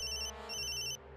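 A phone ringtone sounds in two short electronic bursts with a brief pause between, clear and close.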